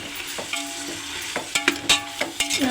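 Tomatoes sautéed in a pan along with onion and green chilli: a quiet sizzle gives way to several clattering spoon stirs and scrapes in the last second, close by.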